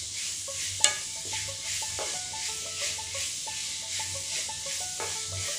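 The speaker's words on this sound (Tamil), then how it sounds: "வெங்காயம் ஆட் பண்ணி நல்லா ஃப்ரை பண்ணிக்கோங்க." Onions fry in a pan while being stirred for a Hogenakkal chicken gravy, with a steady sizzling hiss and soft scraping pulses under faint background music.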